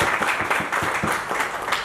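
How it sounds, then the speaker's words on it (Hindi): Applause for Bhatti Sahab at a Hindi political gathering, a crowd clapping in fairly quick, pulsing rhythm throughout. "जोरदार तालियां बजाएं आपके लिए"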